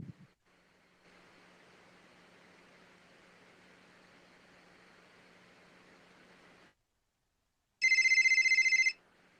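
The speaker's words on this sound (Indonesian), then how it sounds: "Telepon dulu deh, siapa tahu ada yang mau ikutan." A telephone rings once while a call is being placed, a short, bright electronic tone heard alone after a stretch of faint line hiss and a moment of silence.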